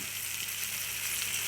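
Onions and tomatoes fry in a pan for dried prawn curry, giving a brief, even, steady sizzling hiss at moderate level with no talking.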